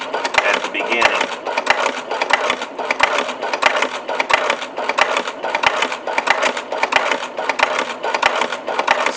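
A sewing machine stitches a double magazine pouch in a fast, steady rhythmic patter of needle strokes that runs without a break at close range.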